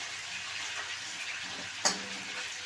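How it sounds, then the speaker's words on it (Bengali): Small chicken pieces frying in oil, a faint, steady, even sizzle with one brief clink partway through; no talking. "ছোটো ছোটো করে নিজের মতো ইচ্ছা মতো পিস করে ফ্রাই করছি"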